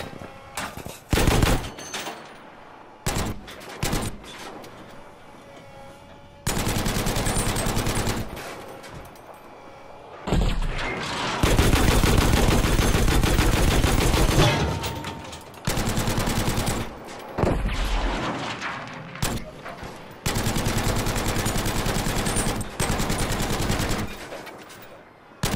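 Battlefield V gunfire: loud machine-gun bursts and rapid fusillades come in long sustained stretches separated by short lulls, with a few single shots early on.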